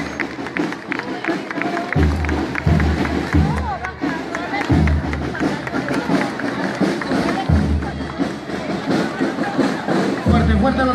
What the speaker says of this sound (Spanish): aplausos para los alumnos del primer grado